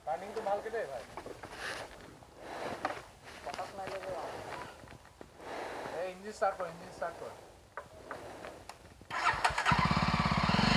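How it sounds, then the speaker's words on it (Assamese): A Jawa 42 motorcycle engine cranks and starts amid loud, busy surroundings, with its revving and a few stops and restarts, voices talking over it, and a harsher steady roar taking over near the end. "ইঞ্জিন"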